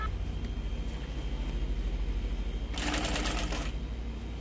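Sewing machine stitching along the edge of a bag runs steadily at a constant rapid rhythm with a close mechanical hum, and a brief brighter rattle surges partway through.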